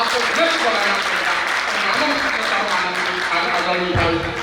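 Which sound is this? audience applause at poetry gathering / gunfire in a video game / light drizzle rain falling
audience applause at poetry gathering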